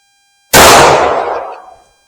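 A single loud, sharp shot from a Kel Tec PF9 9mm pistol with a 3.1-inch barrel cracks out close by after a moment of silence, then trails off in a decaying echo over about a second.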